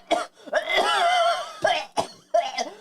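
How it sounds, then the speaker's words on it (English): A man coughs and splutters into his tea in several loud, close, harsh bursts, with a drawn-out wheezing rasp in the middle before more short choking coughs. "Cratchit coughs and splutters into his tea."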